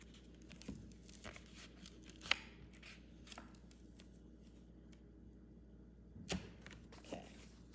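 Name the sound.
trimming cardstock for a Valentine's card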